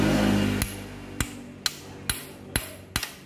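Six sharp metallic hammer taps strike the chain tensioner spring on a Suzuki Satria FU 150cc motorcycle, evenly spaced and close, each ringing briefly.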